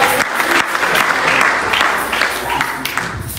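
Church congregation clapping and cheering during a worship service, dense steady applause filling the room close and loud throughout.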